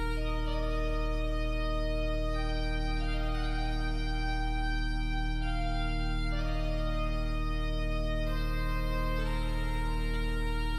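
A digital Hauptwerk organ holds full, sustained chords with a steady deep bass and bright upper ranks shifting now and then, even and continuous with no talk.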